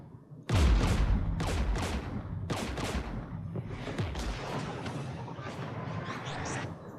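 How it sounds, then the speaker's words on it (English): Gunfire in the video game Mass Effect 3 comes in rapid bursts and salvos, sharp close shots layered with a rumbling barrage for about six seconds, no speech over it. "We're taking fire."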